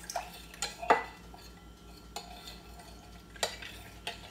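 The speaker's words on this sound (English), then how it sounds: "Go ahead and stir that real good" Spoon stirring strawberry pie Jell-O filling in a bowl, a few sharp clinks and scrapes against the dish, close and quiet, with soft handling noise between the strokes.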